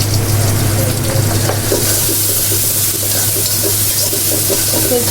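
Kochur loti paste frying in a pan, a steady, loud sizzle with a low constant hum underneath, with no talk over it.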